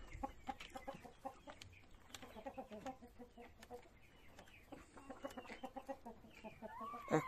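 A Marans hen clucks in a henhouse with other chickens, a busy run of soft, repeated clucks and short calls at moderate distance, fairly quiet, with scattered background noises.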